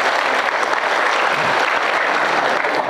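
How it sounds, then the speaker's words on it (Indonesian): Dense, steady applause from a large crowd of high school students gathered for a talk, a continuous wash of clapping that fills the whole stretch with no voices. "Kasih tepuk tangan untuk mentalnya."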